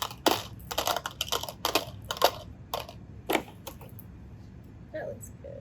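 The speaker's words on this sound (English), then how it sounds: "So to one of them, I'm going to add some gravel pieces." Small gravel pieces clatter into a mini water filter in a quick series of sharp, close ticks and rattles, bunched in bursts over the first few seconds before tapering to a quieter pause.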